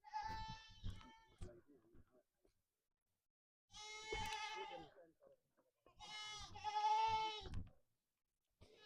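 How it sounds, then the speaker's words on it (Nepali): Goats kept at a hillside orange orchard village in Gulmi, Nepal, bleat three times in wavering, nasal calls, close and clear with short silences between, and the last cry is the longest and loudest. "बाख्रा बोका"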